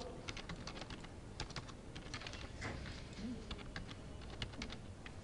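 Rapid, light keystrokes on a computer keyboard as a name is typed, a steady patter of clicks close by over a soft background hum, with no voices.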